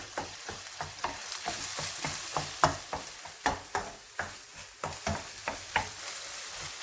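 Eggs frying in a hot pan for Chinese fried rice, a steady close sizzle broken by the regular scrape and clatter of stirring, with no one talking.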